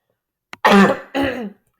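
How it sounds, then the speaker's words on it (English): A person with a lingering cold clears their throat: a short sharp catch, then two rough, loud throat-clearing bursts close to the microphone, with no talking. "I'm sorry for the coughing."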